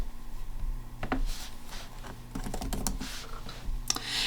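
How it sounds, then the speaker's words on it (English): Fingers type on a computer keyboard in irregular bursts of sharp, close keystrokes, with short pauses between clusters and no voices. "So we'll just type my name."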